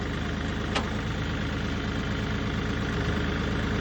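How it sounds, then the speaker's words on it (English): Kioti CK4010H compact tractor diesel engine running at a steady, even idle, close and continuous, with a brief sharp click early on and no talking. "Press the clutch pedal in, and then we're going to turn the key. Tractor comes to life."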